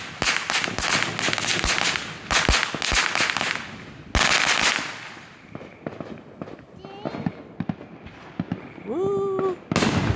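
Fireworks canister shells explode at a July 4th backyard celebration, throwing out a string of loud, close booms and crackling bursts. Excited voices and a shout rise between the blasts.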